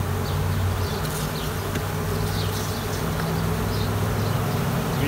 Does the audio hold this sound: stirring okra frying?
no